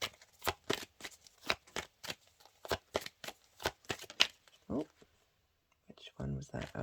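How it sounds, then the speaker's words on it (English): A deck of cards is shuffled with quick, crisp riffling snaps in a rapid rhythm, close up, followed by a pause and a short stretch of speech. "I'm gonna shuffle again and see what wants to come out."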